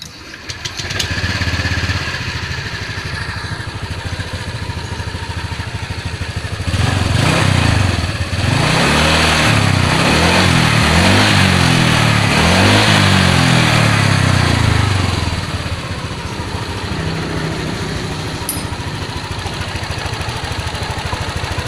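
A Honda Vario ESP scooter, repaired after a seized piston, starts and runs: steady idle that swells into several revving bursts mid-clip, then settles back to a smooth close idle.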